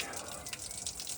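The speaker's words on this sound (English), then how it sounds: "Time to shower." Shower water runs steadily in a steady hiss, fairly close and moderately loud, with no one speaking.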